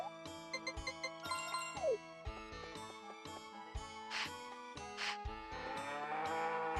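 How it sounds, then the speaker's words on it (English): A cartoonish cow moos several times in Harvest Moon 64, the short synthesized lows repeating over a jingly farm tune with chiming notes, fairly quiet and free of talk. "Keshi, yes, we got a new cow."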